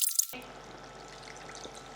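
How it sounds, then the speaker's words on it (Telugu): Water poured into a pot of simmering egg and fenugreek curry, a faint, quiet, steady trickle after a brief louder clatter at the start, with no talk. "ఇంకొన్ని వాటర్ పోస్తాను."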